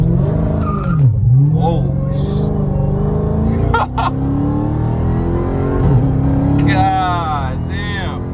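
A 2021 Dodge Charger Redeye Widebody launches from 2,000 RPM under launch control, its loud engine roaring and climbing in pitch with tire squeal as the car pulls hard, while people talk and exclaim over it.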